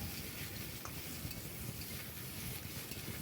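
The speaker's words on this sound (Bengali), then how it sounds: "বেগুনটাও গাছের টাটকা বেগুন আলু সব একসঙ্গে এইভাবে ভেজে নেব" Fresh eggplant and potato fry together in a pan, a steady, close sizzle with soft scraping from stirring throughout and no voices.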